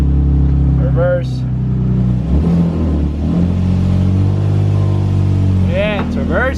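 A manual car creeps in reverse gear, its steady engine drone close and loud from start to finish, with a few brief whining tones rising over the idle and people talking nearby.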